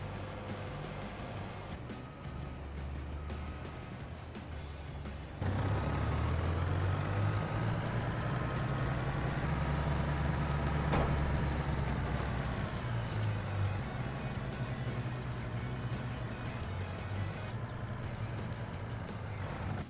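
A truck engine in Farming Simulator 23 drones steadily, its low rumble swelling louder partway through and holding at a constant near level, with faint beeping and air-brake hiss on top.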